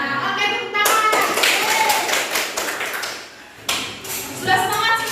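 A primary school class in Indonesia claps hands together in a burst of brisk, dense clapping that starts sharply and runs for a few seconds, then resumes briefly; a teacher's voice and children's talk mix in around it.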